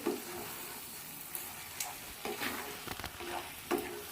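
Mutton being sautéed with ground spice paste in a pan, a soft steady sizzle broken by a few scraping stirs, close but fairly quiet.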